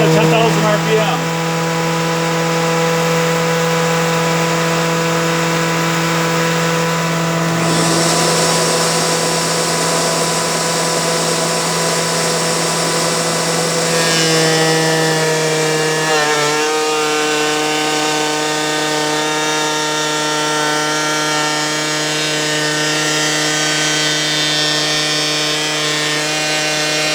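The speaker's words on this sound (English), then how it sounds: "as long as the router is going to spin at the right speed" A router mounted in a router table spins freely at 10,000 RPM, a loud, steady, high-pitched motor whine rich in overtones that shifts slightly in pitch partway through and runs without pause.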